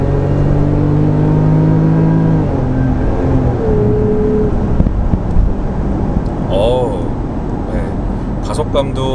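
A Range Rover Velar P380 SE, a car over two tonnes, accelerates in Dynamic mode with a steady whirring engine rise heard from inside the cabin, a turbine-like whine under continuous talking.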